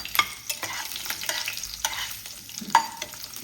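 Cashews, nuts and raisins fry in a pan for paneer pulao, a steady sizzle broken by repeated spoon scrapes and clinks against the metal.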